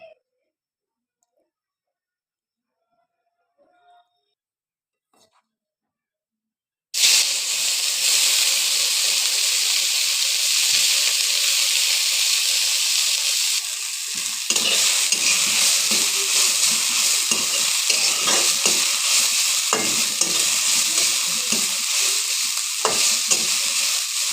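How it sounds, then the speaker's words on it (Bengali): Dried shrimp frying in hot oil in a pan, a loud steady sizzle that starts abruptly after a few seconds of near silence and continues with occasional stirring scrapes and crackles. "তেলটা গরম হলে চিংড়ি শুটকি দিয়ে একটু ভেজে নেবো"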